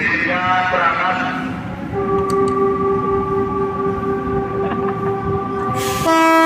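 An electric train horn sounds at Jakarta Kota station, loud sustained blasts over the rumble of rail cars and station noise, with a shift in pitch partway through.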